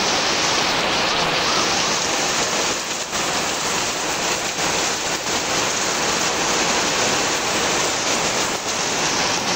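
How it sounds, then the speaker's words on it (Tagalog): Heavy rain pours steadily outside a house on a Sunday, a dense, continuous hiss of water drumming on surfaces and dripping, loud and unbroken throughout with no voices. "Ang lakas ng ulan."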